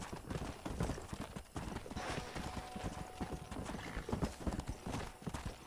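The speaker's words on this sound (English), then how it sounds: "relax, relax, fucking horse" Horse hooves clip-clopping in the Red Dead Redemption video game, a steady dense trotting rhythm throughout over a busy game soundscape, with a faint whinny.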